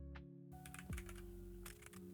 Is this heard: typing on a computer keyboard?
yes